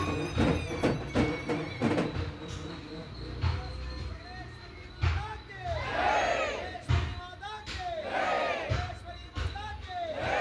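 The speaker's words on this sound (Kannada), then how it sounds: "ಇದು ಚೌಡೇಶ್ವರಿಗೆ ಜೈಕಾರ ಹಾಕ್ತಾರೆ, ಕೇಳಿಸ್ಕೊಳ್ಳಿ" A large crowd shouts rhythmic chants in unison praising the goddess Chowdeshwari, voices rising and falling in loud waves, with rattling sounds and busy background noise throughout.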